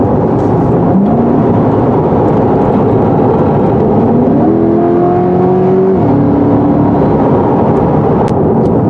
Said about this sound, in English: This is pretty rough pavement that's making the tires create a bunch of droning noises